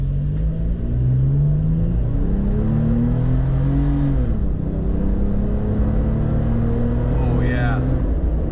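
A 2020 Toyota 4Runner TRD Pro pulls away in first gear in sport mode, its engine note climbing steadily through a long rising rev under a constant rumble, with people talking over it.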